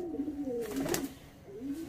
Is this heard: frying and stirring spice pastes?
no